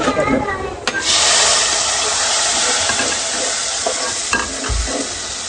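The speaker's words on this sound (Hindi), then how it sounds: "ये टमाटर डल रही है" Chopped tomatoes hit sizzling tempered lentils seasoned with garlic and round chilies, setting off a sudden loud hissing sizzle that stays steady and close, with brief utensil knocks near the end.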